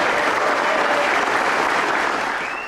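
Crowd of bridge supporters in Rottweil applauding and cheering after winning a referendum on a suspension bridge, dense steady clapping throughout that tapers slightly at the end.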